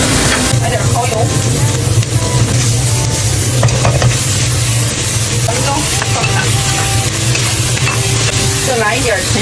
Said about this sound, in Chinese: 来点洋葱和午餐肉炝锅，来点蚝油。